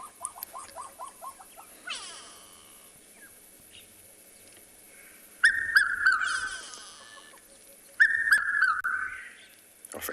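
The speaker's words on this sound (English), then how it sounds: "we heard the characteristic call of the red-chested cuckoo" Recorded call of a red-chested cuckoo at Tswalu in the early morning: repeated loud clear whistled phrases in bursts, with other birds chirping and calling around it, fairly near and without talk.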